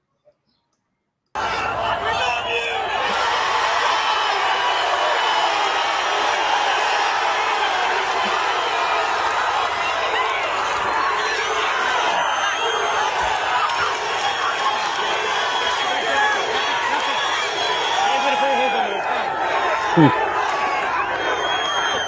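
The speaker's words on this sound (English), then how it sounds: "listen to the crowd here. The crowd goes crazy." A large crowd roars and cheers continuously, a dense wall of shouting and voices that stays loud throughout after a brief silent start.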